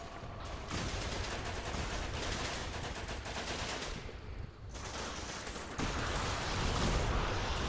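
Naval guns fire in the Running With Rifles: Pacific Theater video game, a continuous barrage of booming, crackling blasts that rumble on at a moderate distance and grow heavier near the end.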